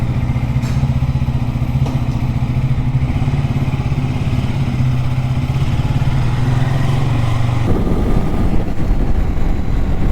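A motorcycle is ridden along a road, its engine producing a loud, steady drone with wind rush, the tone shifting abruptly near the end as the rider changes speed.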